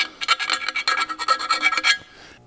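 A hand file rasps rhythmically inside a freshly drilled hole in a steel exhaust pipe, close and loud, with a dozen or so quick back-and-forth strokes before it stops.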